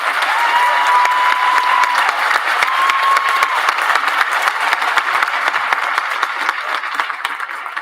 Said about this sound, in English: Please join me in a well-earned and well-deserved round of applause for Mrs. Stevens.